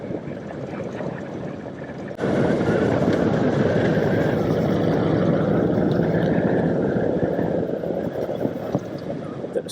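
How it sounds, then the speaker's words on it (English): Honda Fury chopper motorcycle engine riding on the road, a quieter start then a sudden loud, steady broadband engine roar with wind rush that holds for the rest of the ride. "The engine is so smooth and crisp."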